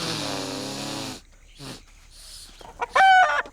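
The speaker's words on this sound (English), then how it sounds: "Clarence, for some reason, brought his chicken Lucine." A cartoon chicken in an animated Clarence episode clucks and squawks in a burst at the start, followed by a few short sharp sounds and a loud squawk near the end.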